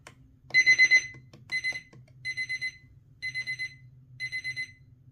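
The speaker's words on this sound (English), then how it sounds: "looks like the alarm turned back on" A Mesqool digital projection alarm clock beeps in repeated bursts of four quick high-pitched tones, spaced about a second apart, with a low hum underneath.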